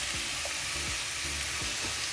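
Sliced onion frying in hot oil in a pan while puffs filling is made, a steady hissing sizzle with a few soft stirring scrapes, heard alone without speech.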